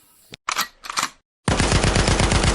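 Cartoon gunfire: a few short sharp bursts and a brief silence, then a loud rapid machine-gun stream of shots that runs to the end.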